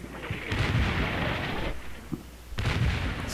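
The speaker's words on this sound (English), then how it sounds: "Some more counter-battery artillery there, I guess." Counter-battery artillery fire in Combat Mission Shock Force booms in two heavy rumbling volleys with low rolling blasts and a brief gap between, loud and continuous, without speech.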